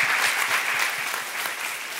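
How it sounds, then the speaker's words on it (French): A church gathering audience in Brussels breaks into dense, sustained applause, many hands clapping at once in a steady roar that stays loud throughout with no voices over it. "on peut applaudir bien fort"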